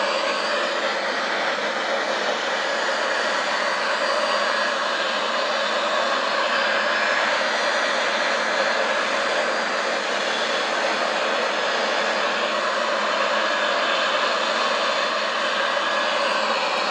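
Steady, loud broadband roar of Boeing 737-800 jet engines in Microsoft Flight Simulator X, an El Al airliner in flight, droning on without a break and no voices over it.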